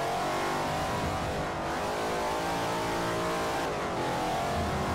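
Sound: car engine in Forza Motorsport 4 video game

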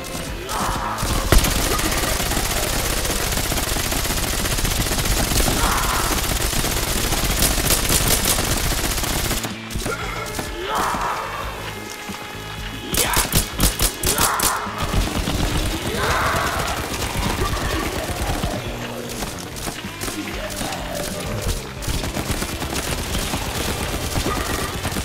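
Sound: MG42 machine gun firing in Roblox video game

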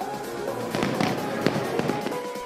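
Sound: fireworks display

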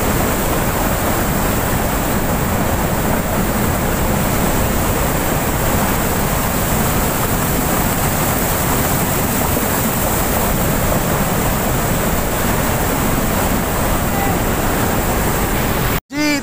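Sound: fast-flowing water in the BRB canal

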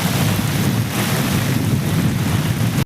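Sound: wind

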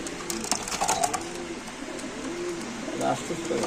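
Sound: racer pigeons cooing at a pigeon sale

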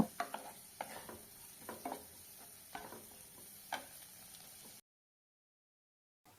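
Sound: stirring lightly fried vegetables with salt in a pan

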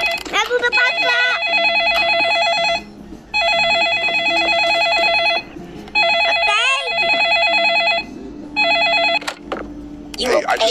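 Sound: telephone ringing

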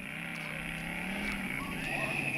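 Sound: engine sound effect from mini chopper motorcycle Bluetooth speaker

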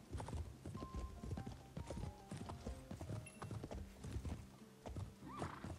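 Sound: horse galloping hooves in a horse phone game app

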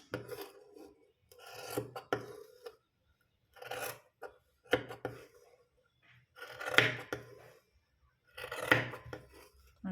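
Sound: cutting piping cloth along a marked line

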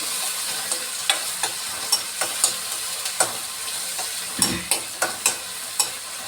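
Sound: bitter gourd frying in oil

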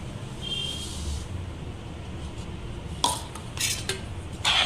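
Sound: mixing salt into mango pickle in a bowl

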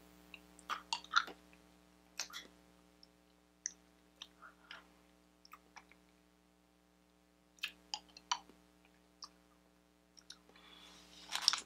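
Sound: chewing sour lemon candy from a Japan Crate

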